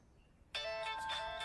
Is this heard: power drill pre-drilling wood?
no